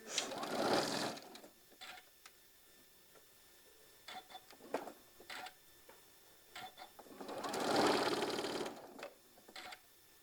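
A sewing machine stitches a quarter-inch seam down the side of a maple leaf table runner, running in close, steady bursts of rapid clatter with quieter pauses between them.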